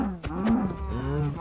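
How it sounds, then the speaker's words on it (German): A calf struck in Minecraft gives a short lowing moo with a rising and falling tone, close and clear with no talk over it. "Kleine Kuh wollte ich natürlich nicht treffen. Das Kalb."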